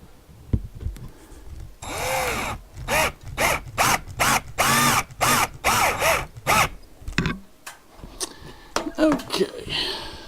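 A power drill drives screws to mount a Haloview RD7 backup camera, with a dozen short whirring bursts in a quick stop-start rhythm, loud and close, plus a few clicks and handling knocks.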